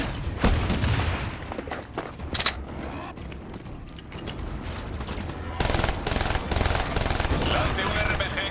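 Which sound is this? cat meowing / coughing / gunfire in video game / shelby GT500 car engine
gunfire in video game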